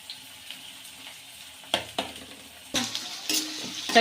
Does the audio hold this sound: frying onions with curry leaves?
yes